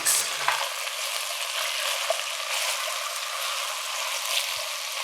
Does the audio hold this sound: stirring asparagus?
yes